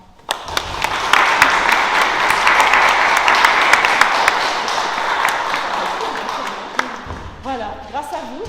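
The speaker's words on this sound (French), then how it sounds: "Je vous invite à l'accueillir en l'applaudissant." A church congregation at a Protestant service in Mietesheim claps for several seconds to welcome a newly baptized child, the applause swelling then fading, followed by a few speaking voices near the end.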